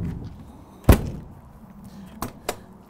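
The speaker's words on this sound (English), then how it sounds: "This door on any of the coach, on any part of the coach may open up here or there." A door on a 2021 Newmar Ventana 4037 Class A diesel motorhome pops open with one sharp thump, followed by two fainter knocks a moment later, heard close with no talking.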